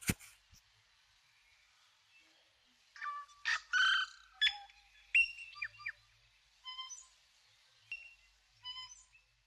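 A tui, the New Zealand parson bird, calls in quiet surroundings with a varied string of clear whistles, chirps and clicks, sporadic bursts spread across several seconds at moderate distance.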